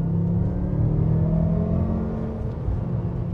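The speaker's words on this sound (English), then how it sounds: "This is full throttle in third gear." BMW M5 engine at full throttle in third gear, heard from inside the cabin as a steady, muffled rumble that rises in pitch as the car accelerates, with no voices.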